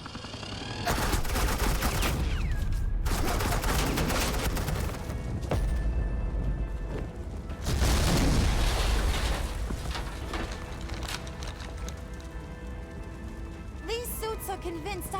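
Suppressing gunfire in Batman The Enemy Within, long loud bursts of rapid automatic shots in several waves separated by short pauses, with a voice briefly heard near the end.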